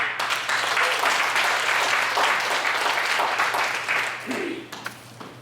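An audience at a Korean literary association's evening event claps steadily for an arriving guest, the applause fading toward the end as a voice begins speaking.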